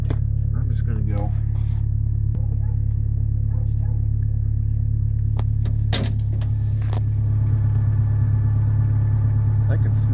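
Ford Ranger pickup truck engine idling with a steady, loud low rumble throughout, under a person talking.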